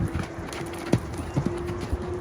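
Horse hooves clip-clop on the ground during a group riding lesson, with a few distinct hoofbeats standing out over a steady low background hum, moderately close.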